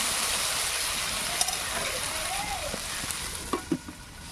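Slit green chillies frying in a covered pan and being stirred, a loud steady close sizzle with a few spoon knocks near the end.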